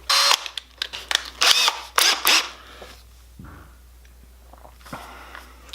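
A drill with a 1/2 inch Forstner bit runs in several short, loud bursts as it bores a countersink for a nut. Quieter mechanical shuffling follows.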